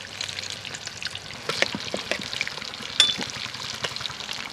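Dried red chillies and bay leaves fry in hot oil in a heated kadai, giving a steady close crackle with scattered sharp pops throughout.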